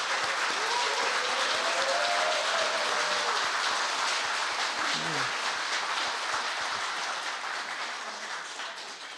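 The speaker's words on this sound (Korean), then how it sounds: "우리 김근호 국장님한테 고맙다는 박수 한번 보내시죠" Sustained crowd applause for a ministry culture-department director at a National Assembly talk concert in a meeting room, dense and steady throughout, fading slightly toward the end with a faint voice briefly under it.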